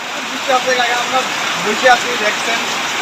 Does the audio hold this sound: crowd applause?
no